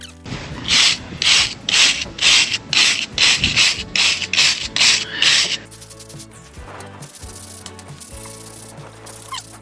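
Rhythmic scraping of grout on a cabin facade during renovation, about a dozen quick rasping strokes in a steady rhythm, then gentler scraping and rubbing with soft clinks.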